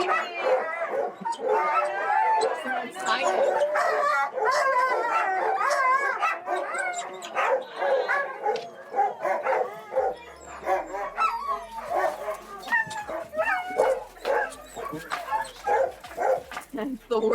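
Excited sled dogs at a musher camp in Skagway, Alaska, bark, howl, yip and whimper in a continuous loud chorus before a run, many voices overlapping close by, with people talking underneath.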